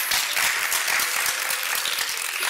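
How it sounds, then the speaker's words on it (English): A conference crowd gives a round of applause, dense steady clapping from many hands at moderate level for the whole stretch, with no voices on top. "Give yourself a round of applause."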